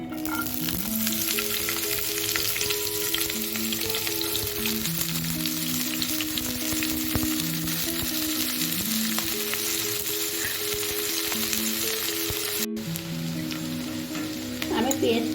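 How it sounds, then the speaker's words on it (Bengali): Sliced onions sizzle and crackle vigorously in hot white oil in a kadai, a continuous dense frying hiss with occasional stirring scrapes and a brief clatter near the end. "পেঁয়াজটা ভাজার জন্য আমি কড়াইতে সাদা তেল দিয়ে দিয়েছি। এখন আমি পেঁয়াজটা দিয়ে দেব।"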